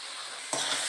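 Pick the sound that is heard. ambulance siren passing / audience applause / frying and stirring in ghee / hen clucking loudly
frying and stirring in ghee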